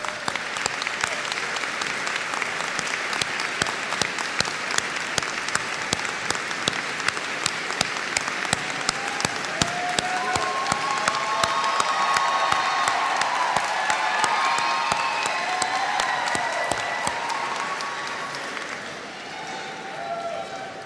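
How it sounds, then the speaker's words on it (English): Large crowd at a 2016 college commencement ceremony giving a long, sustained round of applause for graduates' family and friends, with scattered cheers and voices mixed in, swelling midway and easing toward the end. "so we can give you a round of applause"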